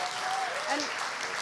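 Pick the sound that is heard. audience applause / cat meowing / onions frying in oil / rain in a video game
audience applause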